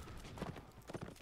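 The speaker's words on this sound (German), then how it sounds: "Hat jemand ein Pferd verloren?" Horse hooves clip-clop in the Legion battle game during a cavalry capture-the-flag event, a brief run of quick, fairly muffled hoofbeats over steady background noise.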